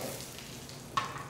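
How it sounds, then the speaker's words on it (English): Shallots sauté in a pan of oil, giving a soft, even sizzle at low volume, with one brief clink of a utensil near the end. "We got some shallots. And we're going to just saute this for a little bit."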